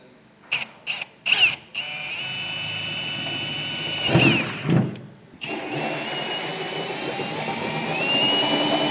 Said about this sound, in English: come back with our 4-inch hole saw and we'll open up our hole for our gooseneck hitch to sit through